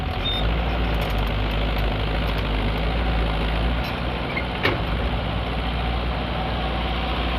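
A heavy diesel engine of a bulldozer working sticky clay soil rumbles steadily nearby, loud and continuous with a deep low drone, holding a constant pitch throughout.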